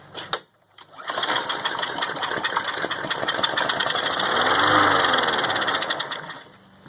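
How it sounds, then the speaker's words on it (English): Newer Briggs lawn mower engine with a plastic carburetor catching briefly on starting fluid after a pull, a short clatter followed by several seconds of rough, loud running that fades out as it dies. "Picked up and ran, burnt the start fluid, died right away."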